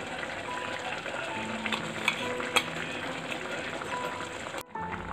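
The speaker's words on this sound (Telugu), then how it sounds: "చింత చిగురు వేసుకున్న తర్వాత ఇది కూర అంతటికి కలిసేలా కొంచెం కలుపుకోవాలి." Fish curry with tender tamarind leaves sizzles softly in a pan as it is stirred, a steady low crackle with a few brief scraping clicks near the end, no speech.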